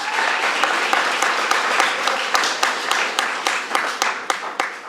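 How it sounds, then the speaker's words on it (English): A crowd at a school athletics awards event applauds steadily with dense, sustained clapping that gradually thins out toward the end. "You can clap for her."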